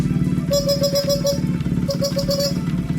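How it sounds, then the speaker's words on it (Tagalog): A motorcycle horn beeps in two quick pulsing bursts over the steady rumble of an idling engine nearby. "So subukan natin yung busina natin sa motor natin"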